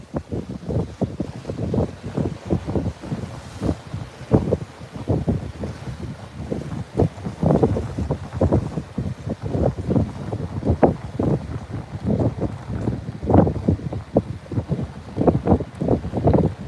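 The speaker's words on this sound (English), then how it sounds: "That's very windy, Switchback." Strong wind buffets the microphone in rough, gusting surges over rough open water, with water sloshing beneath, continuous and loud throughout.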